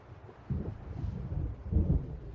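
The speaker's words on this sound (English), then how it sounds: "It seems there's a storm coming." Low thunder rumbles from an approaching storm in the video game Alan Wake, a deep distant swell that builds after a quiet start and stays moderately soft.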